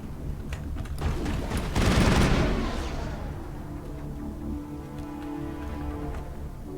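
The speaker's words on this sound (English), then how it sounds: "That's probably shotguns." Shotgun fire in the 2007 video game Mass Effect, a dense, loud burst of blasts peaking in the middle, then trailing into a steady rumbling wash of combat noise.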